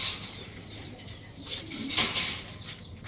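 A female Maxi racer pigeon from the BRPFC club gives a faint, low coo near the middle, barely above a quiet room hum with soft rustling.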